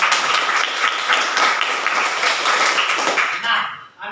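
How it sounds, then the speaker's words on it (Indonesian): Students and their teacher in a school class applaud together in a dense, sustained burst of clapping that fills the room at close range, then tapers off near the end. "Oke, tepuk tangan buat kita semua."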